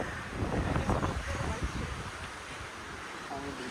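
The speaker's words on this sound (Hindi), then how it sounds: "आपको हवा की आवाज़ तो आ ही रही होगी।" Strong wind gusting across an open mountain camp in Kanatal, Uttarakhand, roaring and buffeting the microphone close up, loudest early then settling into a steady rush.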